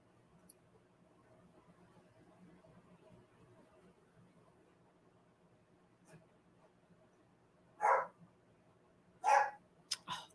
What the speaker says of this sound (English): Oh, that dog.